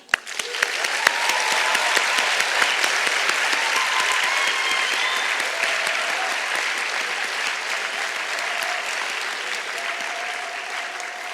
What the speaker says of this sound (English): Can we give them another clap?